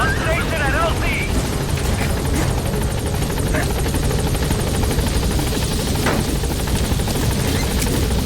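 The Pequod helicopter arrives at the landing zone in Metal Gear Solid 5, with a loud, continuous rotor thump and engine drone close by as radio voices speak over it.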